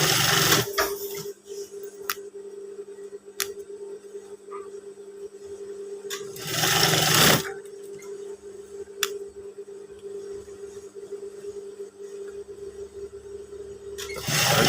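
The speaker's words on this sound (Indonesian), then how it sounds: "Kita jahit untuk ban pinggang yang kurang sedikit ini" A sewing machine stitches the waistband of a pair of trousers, a steady close mechanical hum with faint ticking and a brief louder burst partway through.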